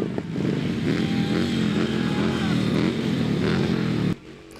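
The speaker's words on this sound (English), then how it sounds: "Motorcycle Riders led the Salukis onto the field to kick off the season." Motorcycles ride onto a college football field to lead the team out for a season opener, a steady loud engine drone with revving and clatter, cutting off abruptly near the end.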